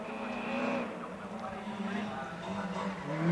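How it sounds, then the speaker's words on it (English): Front-wheel drive rally cars at Donington Park during the 1995 RAC Rally scrabble for grip, engines droning steadily with faint tyre skids, all under continuous commentary. "They really scrabble for traction, these front-wheel drive cars."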